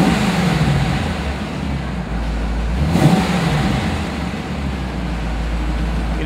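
A 1995 Chevrolet Corvette coupe engine pulls steadily under acceleration, a continuous low rumble with a slight swell midway, close and loud with no talking.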